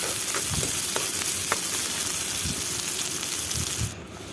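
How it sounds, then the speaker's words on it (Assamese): Onion, ginger and garlic paste frying in hot oil in a wok, a steady dense sizzle with a few soft stirring scrapes, close and fairly loud, easing off slightly near the end. "তাৰপিছত দি দিলোঁ পিঁয়াজ, আদা, নহৰু পেষ্টখিনি দি দিলোঁ।"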